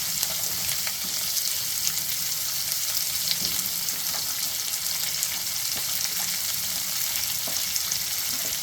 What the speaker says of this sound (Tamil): பருப்பு சிவந்த உடனே வெங்காயம் போட்டுக்கோங்க. இந்த பச்சை மிளகாவும் போட்டுக்கோங்க.